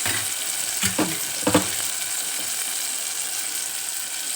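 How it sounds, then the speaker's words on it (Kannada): Oil boils and sizzles steadily in a pan at home cooking, a close continuous crackle with a few louder pops and scrapes early on, no talk. "ಎಣ್ಣೆ ಕುದಿಲಿದೆ."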